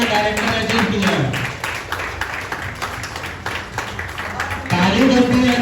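Crowd applauding at an award celebration for loyalty achievers at a resort, a dense sustained patter of claps with a voice speaking over the start and end.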